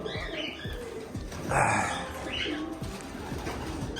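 Tumbler pigeons coo and flutter in a noisy coop, with soft chirps and a brief burst of wing flapping partway through.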